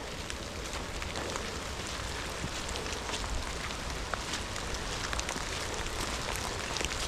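Heavy rain pours down on an archery elk hunt in the Washington State woods. The patter is dense and unbroken, with fine drops hitting nearby surfaces at a fairly low, even level.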